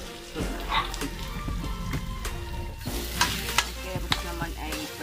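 Carrots going into a hot frying pan for stuffed bangus, sizzling steadily and loudly, while a utensil stirs and scrapes with several sharp knocks against the pan toward the end, with a brief faint voice in the background.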